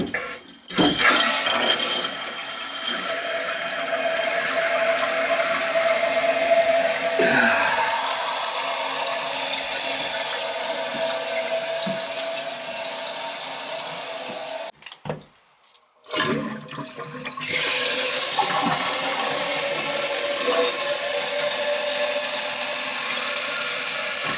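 A toilet tank refills with a steady rushing hiss of water after the supply is turned back on, continuous for most of the span, briefly dropping out before resuming just as strong.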